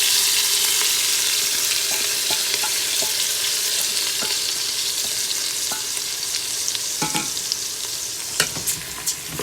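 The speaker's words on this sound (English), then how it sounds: "And I'm gonna just fry my rice up here." Rinsed, still-damp rice fries in hot oil in a pressure cooker for Guyanese vegetable fried rice, giving a steady loud sizzle with occasional spatters and stirring scrapes, no talking.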